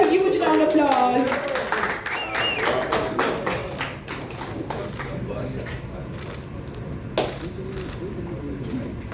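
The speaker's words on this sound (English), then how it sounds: "Can we have a huge round of applause?" Huge audience applause greets cricketer Chris Gayle at a party-anthem event, a loud dense clatter of many hands under music and voices, swelling at first and then tapering.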